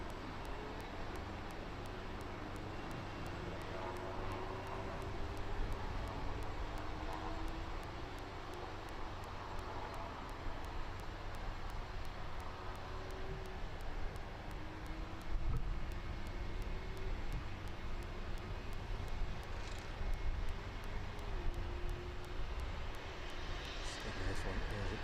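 Fixed-wing aircraft taxiing at East Midlands Airport toward a hangar after landing, a steady engine roar with whining tones, continuous and fairly loud throughout with faint talk in the background.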